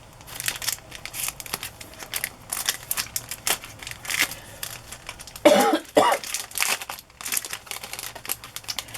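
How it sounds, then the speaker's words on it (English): A person coughing once or twice, close and fairly loud, amid paper rustling and crinkling from handling a magazine and journal materials, with no talking. "Sorry for the coughing."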